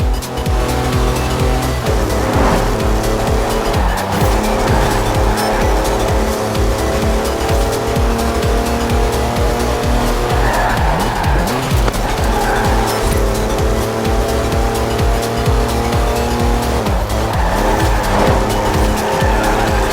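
Four-wheel-drive car with air suspension driving off-road in Forza Horizon 4, a loud continuous engine drone with shifting revs and tire scrabble, rising and falling over rough ground without pause.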